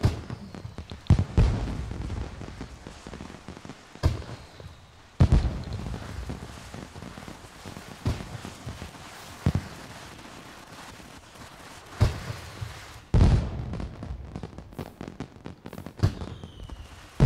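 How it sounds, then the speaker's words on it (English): Fireworks bursting in The Sims 4, a series of sharp pops and crackling explosions at irregular intervals, some louder booms spaced a few seconds apart over a steady crackle, with no talking. "I like the fireworks a lot."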